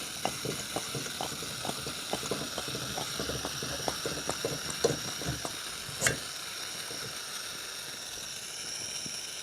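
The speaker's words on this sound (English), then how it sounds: "we have the stove on high, we have it pumped up" A Coleman 533 dual fuel white-gas camp stove, pumped up and burning on high, gives a steady roaring hiss with faint bubbling and small clicks over it and one sharp knock near the middle.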